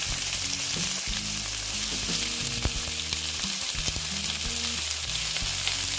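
Chopped onion frying in a pan for an egg curry, a continuous dense sizzle with faint stirring scrapes and small clicks, close and steady with no talking.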